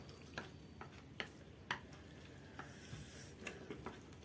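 Samyang 3x spicy Korean chicken noodles being stirred with white sesame seeds and pepper, faint sticky squelches and light utensil taps against a bowl over a quiet hiss.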